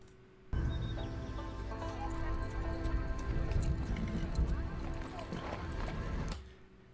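Horse hooves clip-clop in a steady walking rhythm as Yasuke rides through Assassin's Creed Shadows, moderately loud over ambient birds and background music, starting abruptly and cutting off after about six seconds.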